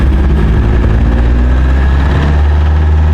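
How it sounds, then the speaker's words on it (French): The engine of an old 4x4 roaring loud and close as it climbs a winding mountain road in Italy at low speed, a steady heavy drone that runs without a break and with no talk. "même à cette vitesse, le moteur rugissait bien fort"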